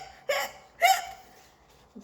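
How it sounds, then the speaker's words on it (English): Two sharp hiccups from a cartoon skeleton character, loud and close, spaced about half a second apart, followed by a faint trailing breath. "Still has the hiccups."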